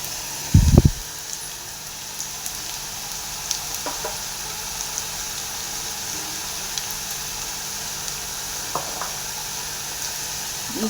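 Curry leaves hitting hot oil in a pan give a sharp crackling burst at the start, then a steady, quiet sizzle of frying with faint scattered pops, no talking.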